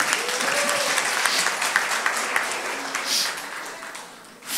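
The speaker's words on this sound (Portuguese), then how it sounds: "Salva de palmas." A church congregation bursts into loud, sustained applause, dense clapping from many hands close by that tapers toward the end, with faint voices underneath.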